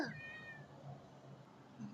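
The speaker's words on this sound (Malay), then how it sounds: "Dia asyik mengiau je. Miau je." A cat gives a short, drawn-out meow, fairly close but quiet, followed by soft background rustling.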